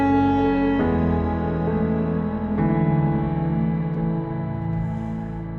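A sustained synth pad played on its darkest setting, compressed and drenched in dense reverb with a shimmer effect, holding thick layered chords that shift in a few slow steps and wash on without pause.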